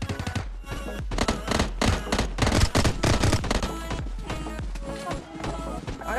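Gunfire in a PUBG Mobile match rings out as dense, rapid bursts of sharp shots, close and loud, repeating in quick volleys throughout with brief gaps between strings.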